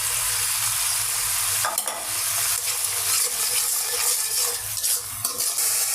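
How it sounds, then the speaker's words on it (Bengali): Turmeric, chilli powder and salt being fried and stirred in a pan for a puti fish curry, a steady close sizzle with occasional spatula scrapes and knocks, no voices. "মশলাটা কষানো শেষ"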